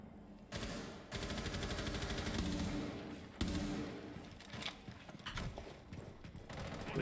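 Rapid bursts of gunfire in a Rainbow Six college esports match, Marietta College versus Irvine Valley College, with loud shots coming in dense clusters and short gaps between them, and a few sharp thumps standing out.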